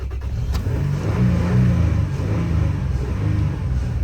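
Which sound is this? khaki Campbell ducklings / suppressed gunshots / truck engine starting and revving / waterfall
truck engine starting and revving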